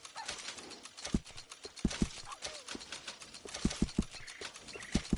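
Horse hooves clip-clop in Fortnite, a run of sharp, hollow knocks in an uneven walking rhythm, close and fairly loud, with a short whinny partway through.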